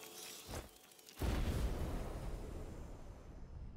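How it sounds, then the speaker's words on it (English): A loud explosion in A Plague Tale: Innocence bursts after a brief quieter thud, then a long rumbling decay that slowly fades, with no talking. "No one heard that explosion, right?"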